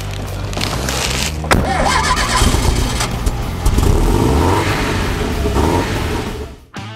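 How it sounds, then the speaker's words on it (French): A Peugeot 205 Turbo 16 rally-bred car on the move, its engine droning loud and steady with a few surges and revving swells, continuous throughout before cutting off abruptly at the end. "Aujourd'hui, je conduis une Peugeot 205. Ok, d'accord, mais pas n'importe laquelle. Là, c'est carrément une Peugeot 205 T16."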